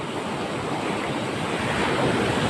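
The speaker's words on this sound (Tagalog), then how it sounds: "Alon guys oh." Ocean waves roll steadily around a fishing boat at sea while lobster fishing, a continuous loud wash of surf and wind rushing against the microphone, with no talking.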